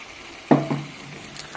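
Water is poured into a pan of simmering fish curry, a sudden splashing onset followed by a brief bubbling hiss that quickly fades.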